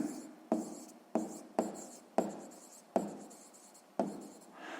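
Chalk strokes on a board come in six sharp, separate scrapes, each with a quick attack and a short fade, at an uneven pace in a quiet room.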